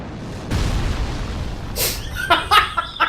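Ballista bolts slamming into the ground in Dark Souls 3: a deep boom, then a cluster of sharp bursting impacts and cracks in quick succession.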